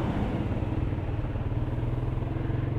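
A Yamaha MT-125 motorcycle engine runs steadily nearby, its exhaust putting out a continuous low, throbbing rumble with no breaks.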